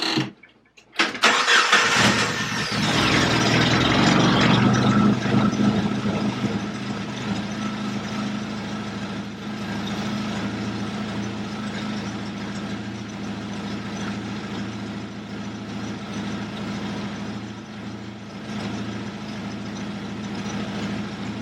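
A Jeep engine cranks briefly, catches and roars up, then settles into a steady, close rumbling idle that carries on evenly for a long stretch.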